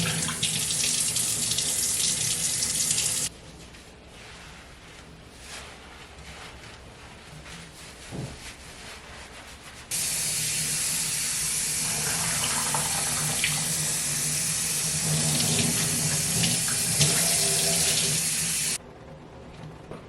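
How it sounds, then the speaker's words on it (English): A shower runs hard as conditioner is rinsed out of type 4 natural hair, a loud steady hiss that drops out for a stretch in the middle, then returns just as strong before cutting off near the end. "so we gonna rinse this out."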